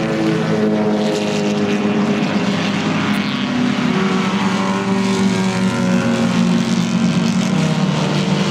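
Vintage race cars, mostly 1950s and 1960s production cars with some older sports racers, roar around turn 3 at VIR during an SVRA event, a loud continuous wall of overlapping engine noise with pitch shifting as cars pass.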